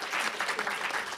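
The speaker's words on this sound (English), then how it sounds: "Big round of applause for them." Audience clapping for a panel at a film festival session, a brief burst of dense applause from a room full of hands, steady and fairly close.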